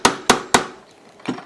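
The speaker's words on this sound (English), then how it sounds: "now I'm going to use the more flattened surface to flatten down the rivet" A hammer strikes a rivet on a handmade jewelry ring to flatten it. There are three sharp, close metallic taps at an even pace, then a pause and a fourth softer tap.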